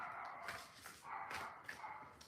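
A dog gives a handful of short barks and yips, fairly close and moderately loud, spaced irregularly over about two seconds with no talking.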